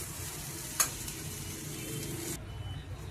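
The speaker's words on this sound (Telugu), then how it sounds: "ఇవి వేగుతున్నాయి కదా" Ingredients for a mint and raw mango chutney frying in a pan, a steady close sizzle with one sharp clink of a utensil early on and stirring, and no voices.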